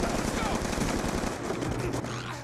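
Death Machine minigun firing in multiplayer Call of Duty: Black Ops 2 on Wii U, a sustained rapid stream of close, loud gunfire.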